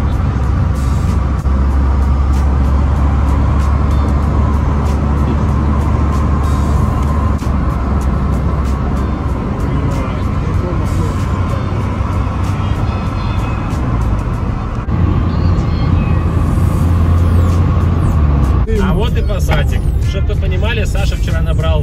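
Steady loud engine and road roar from a car travelling on the Moscow ring road, continuous throughout with a brief shift in tone near the end, with people talking over it.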